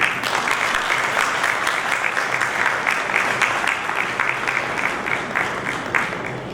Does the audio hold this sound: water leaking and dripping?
no